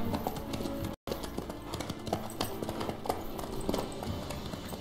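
Hooves of a horse clip-clopping at a steady trotting rhythm in The Witcher 3, continuous and close, with ambient game sound underneath and one brief cut to silence.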